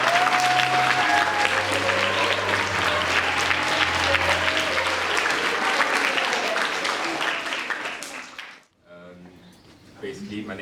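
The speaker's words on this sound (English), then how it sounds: "So can we give him a big round of applause?" A big round of applause from an audience, loud sustained clapping for several seconds that fades out before a speaking voice begins.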